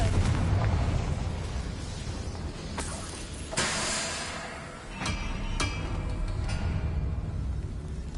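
Confringo explosion spell cast in the video game Hogwarts Legacy: a loud, rumbling fiery blast with sharp bursts and a crackling hiss that swells and trails off over several seconds.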